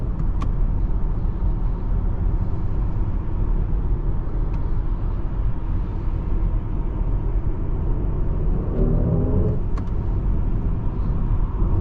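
Road noise fills the cabin of a BMW iX xDrive40 electric SUV as it drives along, a steady low tire and wind rumble with a few faint clicks and no speech.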